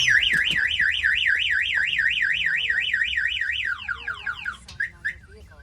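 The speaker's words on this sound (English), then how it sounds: "The alarm's gonna fire off." A loud alarm on a Peterbilt 389 truck with a DIY remote start kit wails in a rapid rising-and-falling siren, then switches to a series of shorter chirping sweeps before fading.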